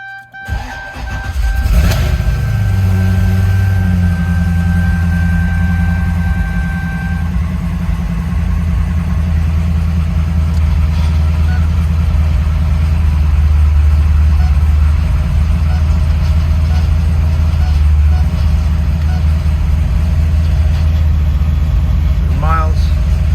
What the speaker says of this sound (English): I do want to start the car.